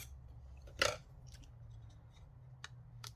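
Scissors snip paper for a stamped and painted craft label, one crisp cut followed by several small faint clicks and snips, close and quiet in a still room.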